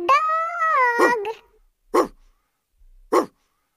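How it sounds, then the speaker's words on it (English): A cartoon-style dog in a children's alphabet song gives one drawn-out, tonal howl-like bark followed by two short, sharp barks, each clearly separated by silence. "D for dog."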